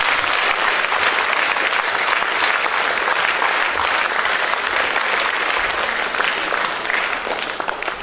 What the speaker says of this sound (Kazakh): осы кісілерге де бір үлкен сый-сияпатпен бір қол шапалақ болсын